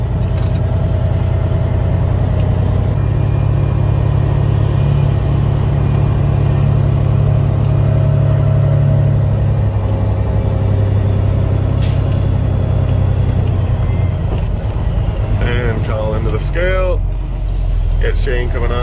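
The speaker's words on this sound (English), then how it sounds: "And the big Peterbilt makes her way" A big Peterbilt gravel truck rumbles loudly into a gravel pit, its heavy engine droning steadily, with a brief hiss like an air brake and some background noise near the end.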